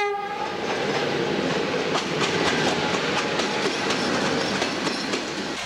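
A train rolls through Sinaia station with a steady rumble and rhythmic clickety-clack, a horn sounding near the start, loud and continuous with no voices.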